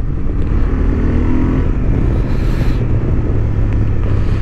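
A 2023 Honda XL750 Transalp accelerates around a racing track, its engine roaring loud and close, tone shifting as revs build, wrapped in heavy wind noise.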